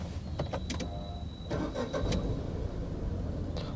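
A new Tata Nexon petrol engine is started with a push button: a few light clicks, then the engine catches and settles into a steady, close idle.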